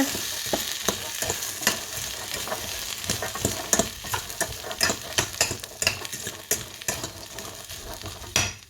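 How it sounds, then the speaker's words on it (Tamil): Chickpeas tipped into hot tempering and stirred, a crackling fry with sharp clattering scrapes of a spoon against the pan, close up and irregular, growing busier toward the end with no speech. "இதுக்கு கடலையை கொட்ட போகிறேன் கொட்டிட்டு இப்படி கிண்டிட்டு"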